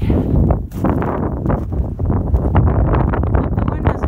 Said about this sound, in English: Hope you're not hearing too much of the wind. It is awfully windy out here.